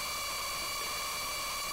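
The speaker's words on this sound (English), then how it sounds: "I understand that you can use just these as a white noise." A DIY XORbell metallic noise percussion module puts out a steady, fairly faint broadband hiss of white noise, with thin sustained tonal lines running through it and no talking.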